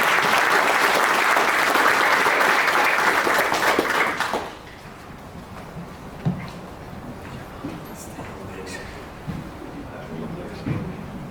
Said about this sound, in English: if you all could join me to give them a round of applause